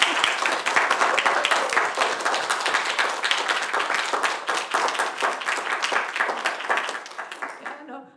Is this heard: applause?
yes